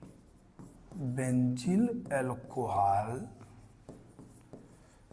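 Chalk or pen scratches out writing on a board during a chemistry lesson, with faint strokes heard at the start and end under someone speaking.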